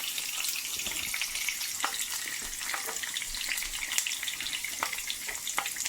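Dry red chilies and ajwain fry in hot oil for a tadka, giving a close, continuous crackling sizzle with sharp pops scattered through it, fairly quiet and with no voices.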